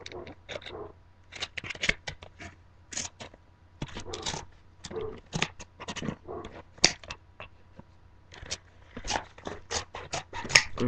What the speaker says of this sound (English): Flip that aside, get your scissors out.